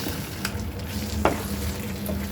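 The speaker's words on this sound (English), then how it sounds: "It is boiling." Chorizo chili beans with tomato sauce bubble and sizzle steadily in a pot on the stove, a soft continuous crackle with a few sharper pops, close and alone.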